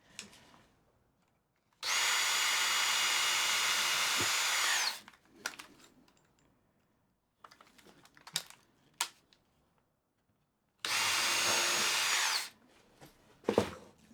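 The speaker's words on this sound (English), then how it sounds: "I'm obviously going to drill this one from the inside" A power drill bores into wood while building a wooden twist-lock saw vice, in two loud sustained bursts of a few seconds each, separated by quieter handling knocks and clatter, with no talking.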